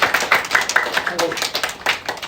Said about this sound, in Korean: 박수예요